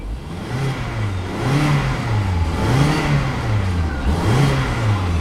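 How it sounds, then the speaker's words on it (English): A 2011 Hyundai Santa Fe Limited engine revs up in a few rising and falling surges, then settles into a steady, smooth idle, fairly loud and close. "Revs up nicely, idles smoothly."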